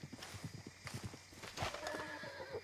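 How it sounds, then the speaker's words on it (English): Horse whinnies and clip-clopping hooves in the Red Dead Redemption 2 video game, a quick run of hoof beats followed by a rising, drawn-out neigh, fairly close and clear with no talking. "Please tell me that's my horse."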